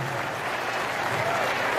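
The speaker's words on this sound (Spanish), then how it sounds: "¡Venga el aplauso para Jinete y Ganadero!" At a rodeo show at Rancho La Misión in Jojutla, Morelos, a crowd claps for a rider and a rancher, a brief, dense burst of applause heard at moderate distance with faint voices underneath.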